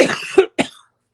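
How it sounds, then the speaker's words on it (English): Two quick, close coughs from an adult, a harsh rasping burst followed by a shorter second one, then silence. "Again, excuse my cough."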